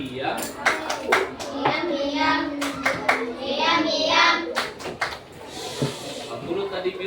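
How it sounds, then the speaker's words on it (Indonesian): A primary classroom of children claps in short rhythmic bursts of sharp, close hand claps, with children's voices and chatter around them in the room. "Tepuk dia."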